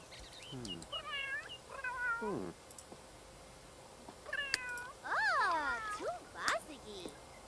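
A cat in The Sims 3 meows repeatedly, several rising and falling cries in two bursts with a pause between, close and clear over a quiet background.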